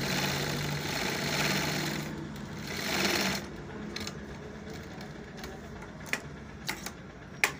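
A large silai sewing machine runs a test line of stitching after its stitch length and shuttle timing are adjusted, a steady whirring chatter for about three seconds that stops, followed by quieter clicks and handling noises.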